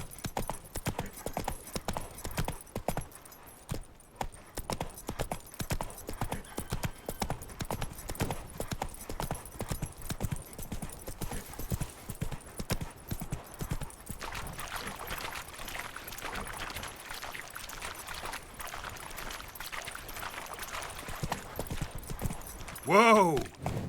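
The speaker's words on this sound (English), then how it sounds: "That's it, Roach." Horse hooves clip-clopping steadily on the ground in The Witcher 3 video game, a continuous rhythmic gait close by that runs through most of the stretch, with a brief whinny near the end.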